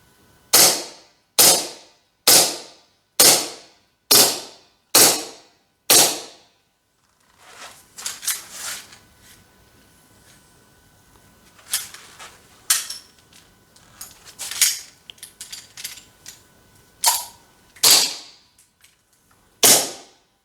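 An ARK-17 gas blowback gel blaster pistol fires seven sharp, evenly spaced pops, close and loud. A stretch of scattered clicks and handling clatter follows, then a few more spaced shots near the end.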